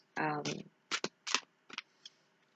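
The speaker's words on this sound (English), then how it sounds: "So I'm just going to shuffle the cards." Deck of cards being shuffled several times in quick bursts, close and fairly quiet, with short pauses between the riffles.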